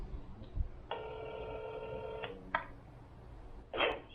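A phone call being placed: a short dial-tone burst, then a sustained tone about a second and a half long, a brief beep, and a ringback burst near the end, all fairly quiet with no talking.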